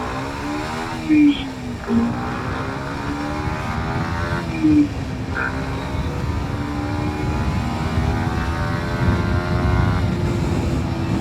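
A Kawasaki Ninja 125 sport motorcycle engine revs up through the gears from 0 to 100 km/h, its pitch climbing, dropping briefly at each shift, then rising again in a long steady pull.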